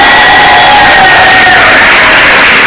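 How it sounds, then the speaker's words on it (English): A crowd at a national exhibition award ceremony cheers and whoops loudly for the chief guest, a dense, continuous roar close and saturated throughout. "Let's give a round of applause to our chief guest"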